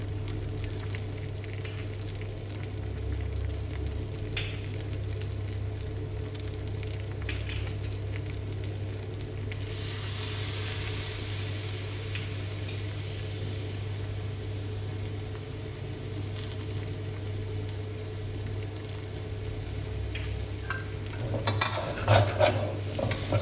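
Wide rice noodles being stir-fried with soy sauce and Chinese broccoli in a pan for Thai pad see ew, a steady close sizzle with scraping and turning sounds that continues throughout, with a few sharper clatters near the end.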